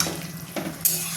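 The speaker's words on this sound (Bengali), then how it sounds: "নাড়াচাড়া করে আবার ঢাকিয়ে দেবো," Jackfruit and prawn curry stirred in a pot on the stove, a soft steady sizzle with a few light scrapes and one sharper clink of a utensil near the end.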